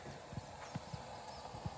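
Horse hooves clip-clopping in a steady trot during a riding lesson, a series of distinct hoofbeats at moderate distance with low background noise and no talk over them.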